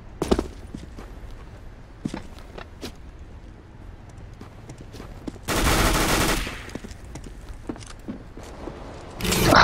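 Gunfire from a deathmatch video game, scattered sharp shots across the clip with a dense loud burst in the middle, amid game background noise.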